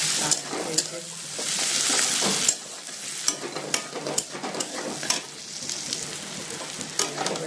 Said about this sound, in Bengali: চাউমিনটা দিয়ে দিলাম, নুন দিলাম কিছুটা, নাড়িয়ে নিই।